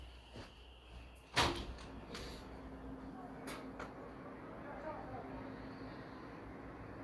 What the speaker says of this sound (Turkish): Ya bu kapı çalıyor.